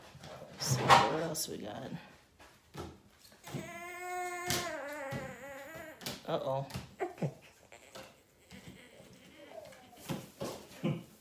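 Dogs whine and cry in high, wavering tones, with a person also crying, during a live sports collectibles sale. The whimpers rise and fall in drawn-out bursts among speech and handling noises.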